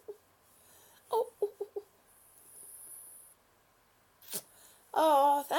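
A single sharp sneeze bursts out in a quiet room, preceded by a few faint clicks and followed at once by a voice speaking.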